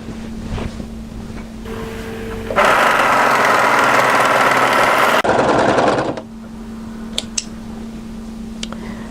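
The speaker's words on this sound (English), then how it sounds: "And we're going to sew across the shoulder seam there." A sewing machine stitches across the shoulder seam of a hooded A-line jacket, a loud continuous mechanical whir running for about three and a half seconds between quieter stretches of room hum.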